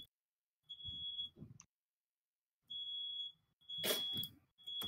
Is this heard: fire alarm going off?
yes